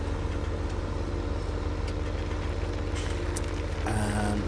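Tractor engine idling in the video game Farming Simulator 17, a steady low mechanical drone held evenly throughout, close and continuous, with a slight shift in tone near the end.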